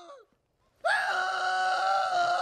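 Man in a Polar Express film scene, his beard being yanked by the conductor, letting out a loud, sustained scream of pain that starts abruptly after a brief silence and holds steady to the end, preceded by a short vocal sound.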